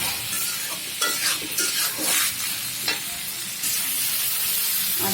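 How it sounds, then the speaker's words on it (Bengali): Polao rice being stirred and fried in a pan with garlic paste: a continuous bright sizzle runs throughout, broken by repeated scraping stirs at a close, moderate level. "সুন্দরভাবে নেড়ে চেড়ে চালটাকে ভেজে নেব"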